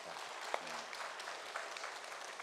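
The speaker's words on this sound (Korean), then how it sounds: "우리 찬양대를 위해서 우리 한번 박수 한번 하십시다." A church congregation claps together for its choir during a Sunday worship service, a steady wash of applause sustained throughout with no talk over it.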